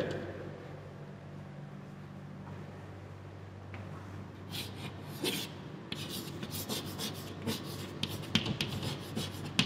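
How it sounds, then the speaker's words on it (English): Marker or chalk writing on a board during a lecture, starting quietly and turning into bursts of close scratchy rubbing strokes in the second half. "I will write it here."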